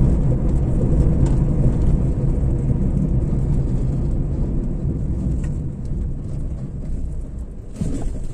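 Steady, loud traffic roar on the Mumbai–Goa highway near Nagothane, vehicles running along the Mumbai-bound concrete lane while the opposite lane is under construction, a continuous low rumble with a brief swell near the end.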